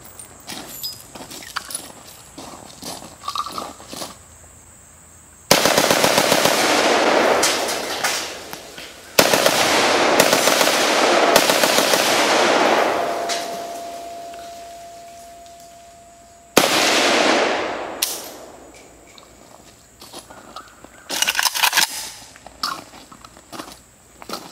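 Rapid bursts of gunfire from a Century Arms C39 rifle aimed at tanks, loud and close, with several long sustained volleys and shorter strings of shots separated by pauses.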